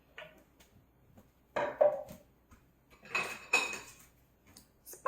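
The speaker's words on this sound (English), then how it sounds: "using my fork at first to mix it" A fork mixes zucchini bread batter in a bowl, making intermittent scraping clinks against the bowl in short bursts separated by quiet pauses.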